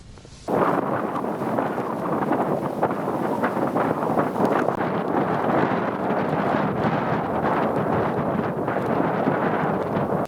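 Loud, continuous roar of strong wind buffeting the microphone, steady and harsh throughout with no voices.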